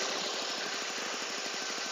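A 2005 Toyota Vios sedan engine idles, a rapid and even rhythmic pulsing heard up close. The hum is steady and there are no voices over it.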